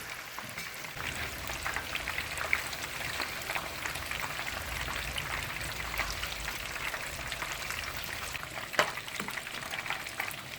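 Curry duck in a pot on the stove sizzles and bubbles steadily as boiling water goes in, a constant soft crackling hiss at low volume with a few brief pops.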